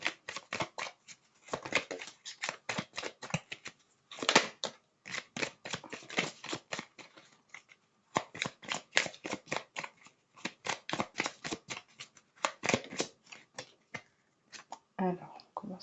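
Tarot cards are shuffled by hand in quick bursts of crisp riffling and slapping, close to the listener, broken by short pauses with a soft voice heard briefly.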